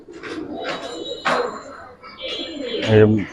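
Giribaz and coloring pigeons coo in low, soft bursts close by, the clearest coo near the end, mixed with someone talking over them.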